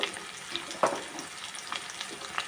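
Ginger garlic paste with turmeric, salt and pepper powder fries in oil for egg fried rice, a steady soft sizzle with occasional spoon scrapes and small spits close by.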